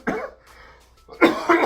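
One person coughs close up, a sharp throaty cough followed after a short breathy pause by two more forceful coughs.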